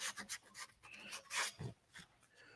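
Hand sanding of a turned wooden ladle with 180 grit sandpaper makes soft, close rasping strokes in quick irregular bursts, fairly faint overall.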